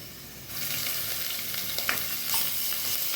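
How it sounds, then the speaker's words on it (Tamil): Ginger garlic paste sizzles as it is sautéed in a pan for mushroom biryani. A soft, constant frying hiss grows louder after a moment, with a few faint stirring taps and no voices. "இஞ்சி பூண்டு பேஸ்ட்டு பாருங்கள் போட்டு வதக்கியாச்சு"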